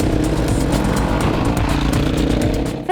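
A Honda CRF 250 XRL trail motorcycle runs loud and close on a woodland trail, its engine droning steadily throughout the short stretch.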